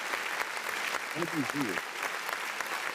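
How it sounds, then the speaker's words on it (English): Long, steady applause with a dense, even clapping texture, heard beneath a person speaking over it. "that's a really long applause"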